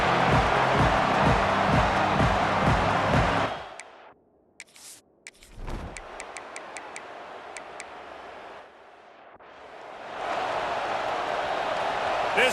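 Stadium crowd roaring in the college football video game EA Sports College Football 26: a loud, dense wall of cheering that drops away abruptly for several seconds, leaving quiet with a few faint ticks, then swells back up to full volume.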